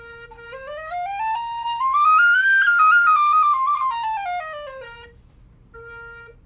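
A single sustained whistle tone that bends smoothly upward and back down, then a short steady note at the end, over a low background hum.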